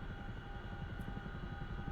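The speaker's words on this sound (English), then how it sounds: "Oh no, my helicopter's leaving." Steady rhythmic thumping of a CH-47F Chinook helicopter's rotors in the game DCS, with a constant engine whine, fairly quiet and continuous throughout.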